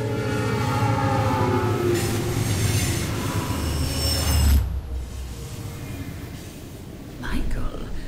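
In a train yard from the video game Alpha Protocol, a passing train rolls by loudly with squealing wheels and rumble, then cuts off abruptly, followed by quiet background and voices talking.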